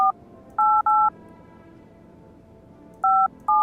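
Telephone keypad dialing tones in the horror game No, I'm Not Human, four clear DTMF beeps in two pairs separated by a pause, heard over a low ambient game background with no talking.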